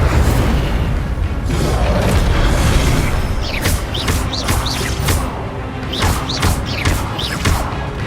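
A roaring burst of the Incendio fire spell in Hogwarts Legacy, a loud continuous whoosh and rumble followed by crackling and bright chirping sparks, with no talk over it.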